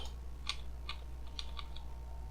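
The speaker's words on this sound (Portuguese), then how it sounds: "agora eu vou testar o teclado" Keys tapped on a computer keyboard while testing a newly added Portuguese (Brazil) layout during an Ubuntu 17.04 installation, a handful of separate quiet clicks over a steady low hum.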